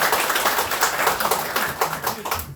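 Audience applause at a family clan association general meeting held in a conference room following candidates' speeches in a chairman election: dense, steady clapping from many hands for a couple of seconds, tapering at the end.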